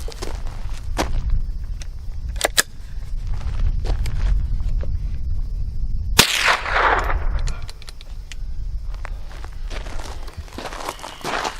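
Henry AR-7 .22 survival rifle fired with CCI round nose rounds from a Charter Arms magazine: several sharp, spaced cracks over background noise, one much louder shot midway, followed by rustling handling sounds.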